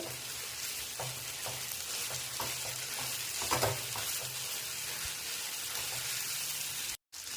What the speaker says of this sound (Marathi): आपलं हे चांगलं मऊ सुद्धा परतून घ्यायचं आहे टॅमॅटो आपला चांगला मऊ पडेपर्यंत